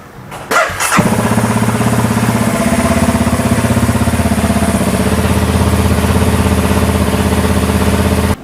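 A Honda Wave motorcycle fitted with a CBR300 engine cranks briefly, fires up within a second, then settles into a loud, steady, close-up idle with a even rhythmic throb.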